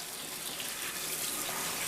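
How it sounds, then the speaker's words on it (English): A kitchen tap runs cold water over frozen shrimp, giving a steady, close, splashing hiss with no break and no voices. "the easiest and quickest way I think to get your shrimp to thaw out is just run them under cold water"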